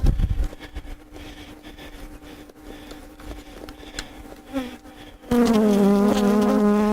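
Honeybees buzz around a hive with brood and a protected queen while an Everything Bee Vacuum runs, a busy hum of wings that swells into a loud, close, sustained whine near the end.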